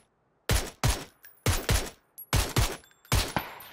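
Gunfire in the battle royale game PUBG: six loud, sharp shots in spaced pairs and singles, each with a short decaying tail, close and alone without talk.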